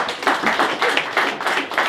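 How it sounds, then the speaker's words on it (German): A small group claps in a quick, steady rhythm inside a pig barn, about eight even claps over two seconds, close and fairly loud. "Ein kleiner Applaus"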